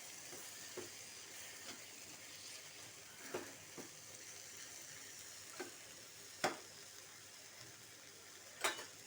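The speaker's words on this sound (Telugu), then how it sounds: "మనం వేయించి పక్కన పెట్టుకున్నాం ఎగ్స్, అవి వేసేద్దాం." Fried eggs go into a tomato curry in a pan, giving a soft, steady sizzle with scattered clinks and stirring knocks, faint and close, no talking.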